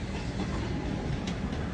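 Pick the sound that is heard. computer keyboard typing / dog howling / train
train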